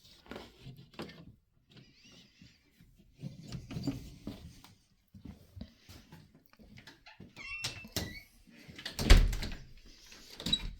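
A house door held on with pliers is worked open, giving a run of scattered metallic clicks, rattles and creaks up close, with a louder clunk near the end.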